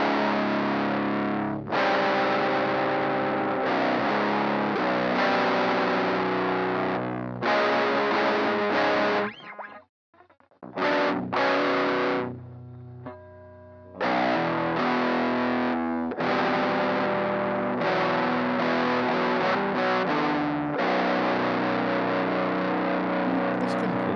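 Lo-fi synth preset in Creatorbeat plays gritty, distorted chords in short phrases, with a brief quiet gap and thinner tones midway before the full sound returns; steady and close, no talking.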